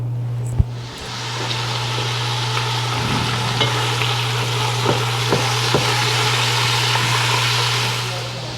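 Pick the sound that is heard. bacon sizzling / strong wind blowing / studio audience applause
bacon sizzling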